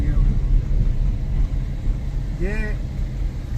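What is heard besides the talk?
car engine driving up a mountain road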